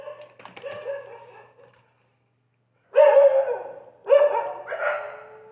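Dogs barking in short bursts: a string of yaps, a pause of silence, then two louder, close, harsh barks spaced about a second apart.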